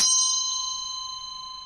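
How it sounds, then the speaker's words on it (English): A temple bell from Nepal, struck once with a bright metallic attack, then a long ringing tone with steady overtones fading slowly across the clip, heard alone in a quiet room before a winter solstice meditation. "So this is a temple bell from Nepal."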